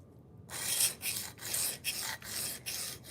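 Knife sharpened on a DMT diamond stone: a quick series of about six raspy strokes in steady rhythm, close and crisp, with no talk.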